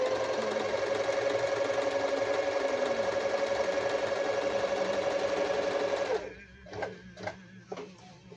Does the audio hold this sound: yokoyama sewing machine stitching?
yes